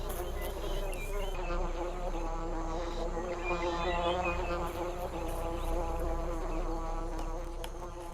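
At a bucket orchid, a bee buzzes continuously up close, its wingbeat hum wavering in pitch as it moves, steady and unbroken with no talking.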